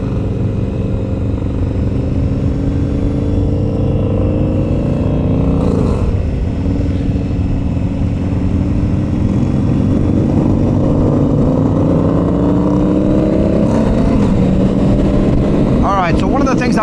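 A Harley-Davidson motorcycle's engine drones loud and steady while riding on the highway, with rising and falling pitch and wind rush, and someone talks over it.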